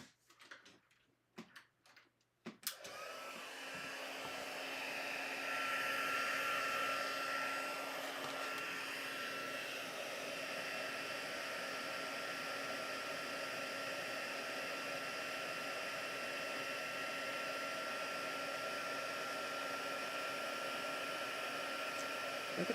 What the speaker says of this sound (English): Grab my heat tool.